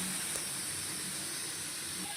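Whole cumin seeds tempering in hot oil produce a faint, steady hiss with soft crackle, continuous throughout a short stretch with no talking.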